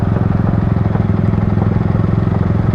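A Yamaha R15 version 3 motorcycle with an ECU tune runs nearby, a loud steady mid-pitched engine drone with a fast, even pulsing throb, alone without talking.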